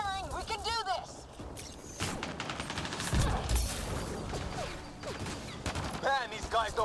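Gunfire in Mass Effect Andromeda, a dense battle of shots and a heavy impact near the middle, under urgent talk and chirping game effects.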